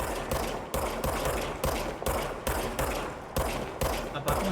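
Rapid gunfire from the player's weapon in the video game Control, a string of sharp, evenly spaced shots of about a dozen reports, loud and close, with no talk over them.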